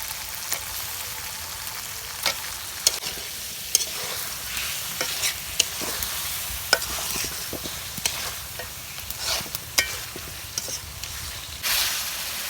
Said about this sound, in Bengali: পেঁয়াজ বোনা হয়ে গেছে, মাছটা দিয়ে দিই